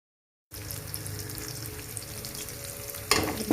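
Small onions and green chillies fry in a pan with a steady, moderate sizzle after a brief silence, a louder stirring scrape near the end, no voices.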